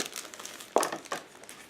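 A plastic bag holding chrome-plated parts from an Aoshima 1/24 Lamborghini Diablo GTR model kit crinkles close by, with two distinct louder crackling handlings over a faint rustle and no talking.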